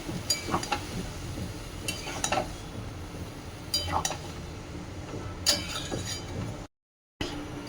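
Spinach greens stirred with spices in a cooking pot, with repeated scraping clinks of a spoon against the metal and a low sizzle underneath, close and moderately loud, briefly cut to silence near the end.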